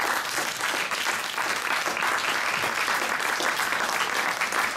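An indoor audience at a talk or panel event breaks into steady, sustained clapping that stays even and dense for several seconds, with no voices above it.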